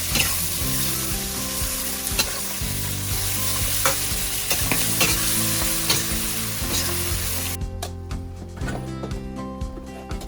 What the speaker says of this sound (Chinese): 我们把这个蒜苗叶放进去，这个翻炒几下